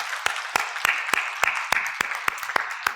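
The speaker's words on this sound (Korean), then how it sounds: "하나님께 영광의 박수 올려드리겠습니다" At Banwol Church, a congregation gives a short round of applause to God. It comes as a crisp, evenly spaced series of about eleven loud claps, close and rhythmic, over a faint room hum.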